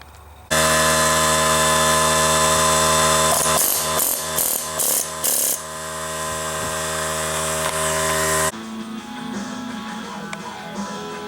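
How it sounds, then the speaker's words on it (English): Loud mechanical droning with a strong tonal hum, broken by several rapid hammering bursts in the middle, then the motor noise cuts and a rougher clatter follows. An air hammer pounds stuck metal A/C extension tubes on a 2005 Chrysler Town & Country. "I'm going to hammer it with this air hammer."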